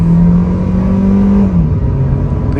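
A Kia Carens with a DCT gearbox accelerates hard in sport mode, a loud, close, continuous engine drone whose pitch climbs steadily before dropping at a quick gear change and climbing again.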